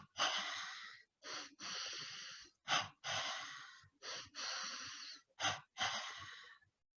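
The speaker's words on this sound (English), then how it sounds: "The first inhale is short and the second inhale is long." A breathing exercise of repeated paired inhales, each a short sniff followed by a long drawn breath, close to the microphone, soft and clear, with no talk.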